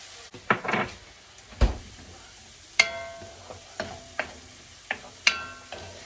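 Garlic, butter and onions cooking in a pan, with a faint, steady sizzle under a series of sharp clinks and scrapes as a utensil stirs and taps against the pan.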